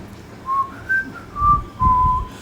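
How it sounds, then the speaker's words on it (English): Someone whistles a short melody up close, four separate phrases with brief pauses between them over quiet background noise. "Little John walked along whistling,"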